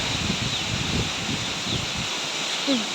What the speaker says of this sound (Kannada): ಇದು ಗಾಳಿ ಸೌಂಡು ನೋಡಿ